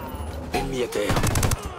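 Gunfire in Ghost Recon Wildlands comes as a quick burst of several sharp, loud shots within under two seconds, while a voice talks nearby.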